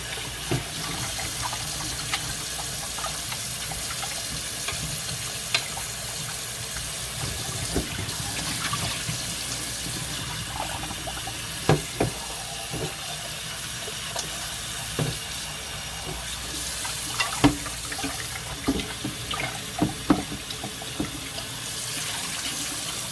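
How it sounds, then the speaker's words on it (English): Tap water runs steadily over potatoes being rinsed of starch in a sink, a continuous close hiss and splash with occasional clinks and knocks, no talking. "always make sure that you rinse your potatoes, get the starch out of them"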